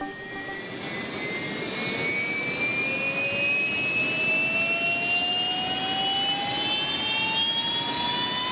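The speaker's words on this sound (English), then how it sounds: "The jet's powered up and tested." A jet aircraft engine is powered up for testing aboard the aircraft carrier HMS Ark Royal. It gives a loud, continuous roar with a rising whine that climbs steadily in pitch, with no voices.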